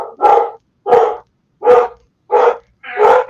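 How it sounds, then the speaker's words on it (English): Several dogs bark in five loud, close bursts spaced about half a second apart, from a neighbor's backyard. "His dogs are starting."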